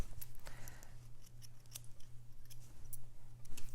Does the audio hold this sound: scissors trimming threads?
yes